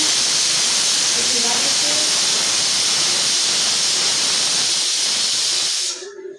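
A pressure cooker hisses hard and steadily while a cluster bean and potato curry cooks inside. The loud, continuous steam jet runs almost the whole time, then cuts off abruptly near the end.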